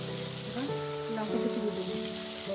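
Chopped tomatoes hit hot oil in a pan while making egg pulao, giving a steady soft sizzle that runs throughout beneath louder melodic background music.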